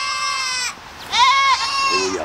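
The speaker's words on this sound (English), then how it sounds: "the goats are happy to see us apparently" Goats on a farm bleat loudly and close by, two or three drawn-out wavering calls in quick succession, with a bull nearby.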